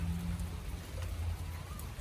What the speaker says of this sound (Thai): เป็นฝนตกแบบปล่อย ๆ ครับ ก็สร้างบรรยากาศให้สดชื่นครับ